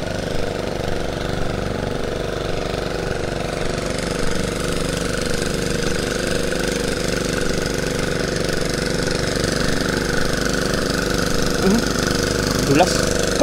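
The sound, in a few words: hand tractor engine while plowing a field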